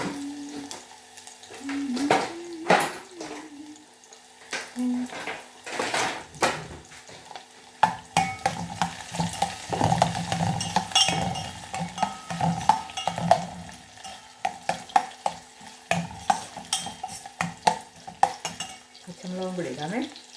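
Ginger, garlic, shallots and curry leaves frying in a pan for a home-style fish-less fish curry, stirred with a spoon: a steady crackling sizzle broken by repeated scraping strokes, close and fairly loud throughout.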